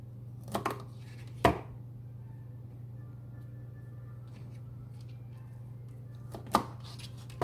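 Knife chopping the stems off broccoli on a cutting board: a few sharp isolated chops spaced out over a steady low hum, fairly quiet with no talking.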